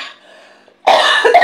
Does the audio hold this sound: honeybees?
no